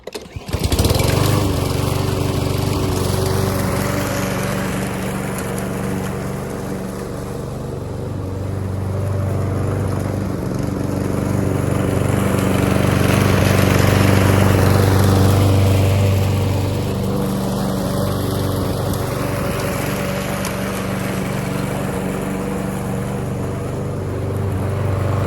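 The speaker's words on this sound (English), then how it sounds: "let's see if it'll actually mow, because it's a mower." A small lawn mower engine running on isopropyl alcohol drones loudly and steadily while mowing, its pitch and intensity swelling and easing as the load changes, close to the microphone with no talking.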